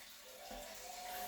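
Water runs steadily from a tap at a household well setup, a continuous hiss at moderate level with a slight shift partway through, and no talking.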